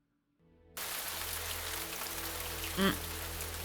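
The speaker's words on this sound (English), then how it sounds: "The slight drizzle of rain outside is making it difficult to see." Steady rain from the visual novel game Cupid Parasite fades in after a moment of quiet and becomes a constant, dense hiss of falling drops, with a brief soft chime partway through.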